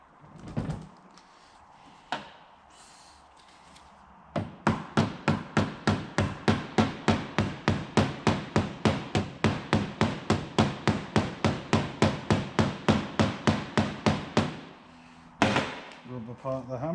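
Hammer tapping a car CV joint into place during a CV boot replacement, a few isolated knocks, then a long run of about thirty-five evenly spaced, sharp metallic taps, close and loud.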